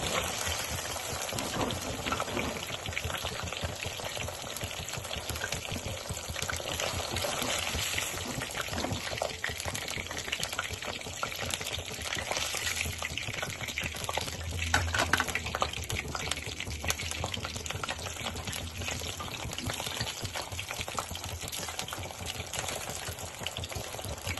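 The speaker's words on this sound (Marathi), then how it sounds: "हे शेवटची बॅच ही तळून घेऊया." A batch of paneer deep frying in hot oil, making a dense, continuous crackling sizzle close by that holds steady throughout with no talk.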